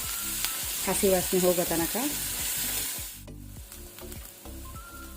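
Ginger garlic paste sizzles and fries in a pan with steady stirring scrapes, a continuous close hiss under a brief spoken remark.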